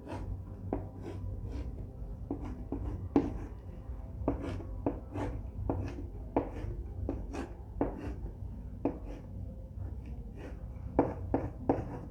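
A teacher writing a question on a classroom board: a quiet, irregular run of short taps and scratches, some single and some in quick clusters, over a low background hum.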